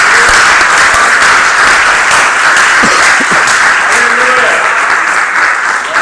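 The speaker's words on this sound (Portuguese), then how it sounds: "Irmãos, dê uma salva de palmas àquele que é digno de receber toda a honra e glória." A church congregation at a Sunday celebration service applauds steadily and loudly throughout, a dense wash of many hands clapping with faint voices mixed in beneath.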